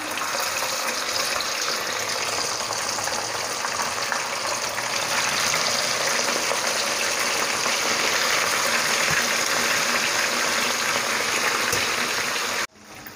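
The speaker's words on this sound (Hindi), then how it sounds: "अब मैं सारी चिकन ऑयल में फ्राई होने के लिए दोबारा से डाल दूँगी" Chicken pieces fry in very hot oil for Chicken 65, giving a loud, steady, dense sizzle that runs unbroken at close range before cutting off abruptly near the end.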